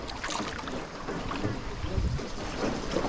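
A rowing boat on the river at Tam Coc, Vietnam, is paddled with the feet, giving soft irregular splashes and water swishes under outdoor ambience and light wind, with faint low voices in the background.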